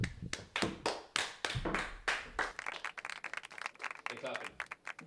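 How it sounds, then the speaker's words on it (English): Young company directors on a Dragons' Den kids edition are met with a run of sharp, close hand claps in an uneven rhythm, with people talking over them. "Big clapping."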